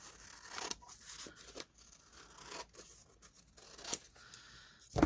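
Scissors cut craft paper at a mark while a Christmas gift-bag journal is assembled at night, making a few soft, close snips and crinkly tearing strokes with faint rustling between them and no talk.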